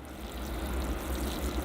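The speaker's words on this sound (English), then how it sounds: "I'll give the tree a water now, just to rinse out any soap that's left in the soil." Water pours steadily onto the soil of a tropical bonsai tree, a continuous close splashing trickle with no gaps.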